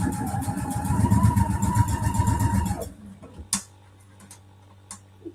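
A Husqvarna Viking sewing machine runs along a quilt seam with a fast mechanical ticking hum for about three seconds, then stops, leaving a few faint clicks and handling sounds.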